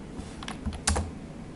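Typing on a computer keyboard, a short run of close, crisp key clicks with a louder cluster near the middle, with no voices.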